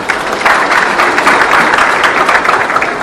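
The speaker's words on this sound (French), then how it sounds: "Je voudrais qu'on les applaudisse" Sustained audience applause following a speech at the SARA 2019 agricultural show, dense even clapping from a large crowd throughout.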